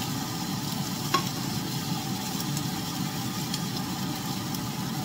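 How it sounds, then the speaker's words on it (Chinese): Chicken wings salted and pan-frying over moderate heat give a steady, dense sizzle with crackle throughout, and one brief clink partway through. "雞翼要煎好耐"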